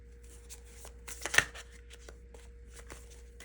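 A deck of tarot cards is riffled and shuffled in quick soft bursts, with one louder flurry near the middle, close and quiet against a faint background hum.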